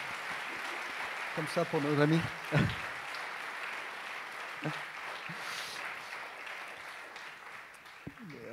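An audience applauds at a French-language talk, a steady wash of clapping that runs through the whole stretch while someone speaks over it.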